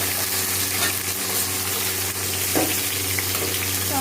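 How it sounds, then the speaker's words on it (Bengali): Chopped tomatoes frying in a pan for a dhaba-style egg chicken tarka, a steady close sizzle with faint scraping stirs, continuous and unaccompanied. "টমেটোটা একটুখানি ভালো করে ভেজে নেব।"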